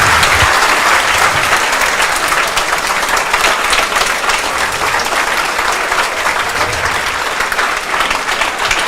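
Loud, sustained applause from an audience honoring a student's exam rank, dense continuous clapping that holds steady for several seconds without talk.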